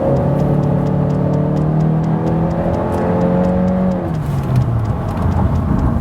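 A 2016 Honda Civic coupe with a 1.5-liter turbo engine accelerating hard, the engine note climbing steadily through the revs, then dropping at a gear change and pulling again, loud and close.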